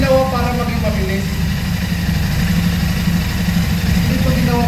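Royal Enfield Classic 650 Twin motorcycle engine ticking over at idle with a steady low rumble, close and continuous, while people talk nearby.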